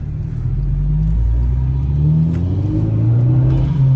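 A Volkswagen Golf accelerates on a road test drive, its engine rumbling low and rising in pitch through the gears, heard loud and close from inside the car, with no talking.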